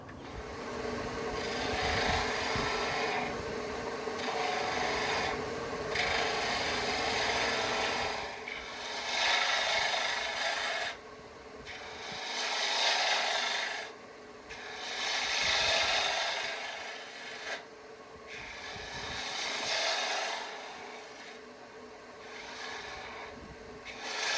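Wood being shaped on a lathe while turning a sea urchin ornament, a steady close scraping rasp of the tool against the spinning wood with a continuous low hum. It swells and eases in repeated passes, with no talking.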